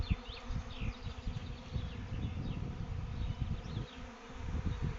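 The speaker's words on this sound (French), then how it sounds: "l'essaim arrive. Vous voyez, on est en plein milieu de l'essaim." A dense swarm of honey bees arriving at a hive, tens of thousands of wings making a continuous close buzzing hum with individual bees zipping past.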